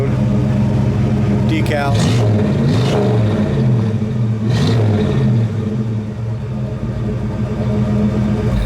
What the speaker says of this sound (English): We'll rev it up a little bit, and then we'll shut it off